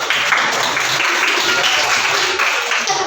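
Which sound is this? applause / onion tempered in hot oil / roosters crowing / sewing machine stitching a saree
applause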